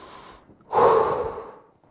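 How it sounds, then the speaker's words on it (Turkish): One deep breath during an exercise cooldown, drawn in through the nose as a short sniff and then pushed out through the mouth in a longer, loud exhale. "Burundan aldık. Ağızdan verdik. Derin al. Ver."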